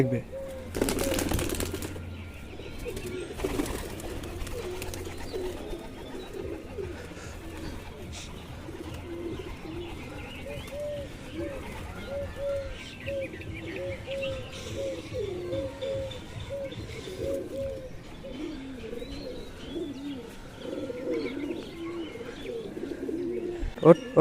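Pigeons at a rooftop loft coo softly and repeatedly, with a burst of wing flapping near the start and scattered chirps throughout, fairly close by with faint voices in the background.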